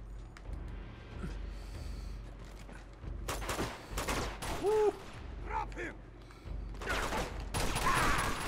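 Bursts of rapid gunfire rattle through a firefight in the video game Uncharted 2 at a monastery, with scattered shots, mechanical clicks and game effects over a steady background.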